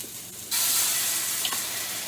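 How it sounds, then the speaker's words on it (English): Onions and ginger hit hot, smoking peanut oil in a wok, bursting into a loud, sudden hiss that continues as a steady close sizzle with a faint clink of stirring. "now I'm going to add my aromatics, which is my onions, a shot of ginger"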